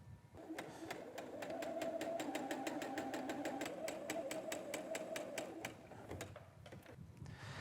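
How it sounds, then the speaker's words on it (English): A sewing machine stitches a quarter-inch quilt seam in one steady run of rapid, evenly ticking needle strokes, fairly quiet and alone, then stops with a few clicks. "And then we'll sew this edge with that 1/4 inch seam allowance."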